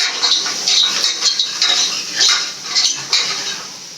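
Onions sautéing in a pan for mutton curry give a steady sizzle, with a spoon repeatedly scraping and clinking against the metal pan in an uneven rhythm, close and fairly loud, with no talking.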